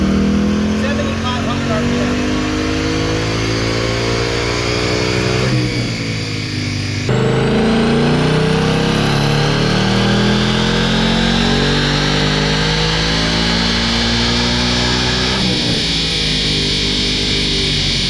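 A 2019 Gen 3 Coyote V8 in a stock Mustang winds up on a dyno from 2500 to 7500 RPM, a loud, rising engine roar with a brief shift drop and a voice speaking over it.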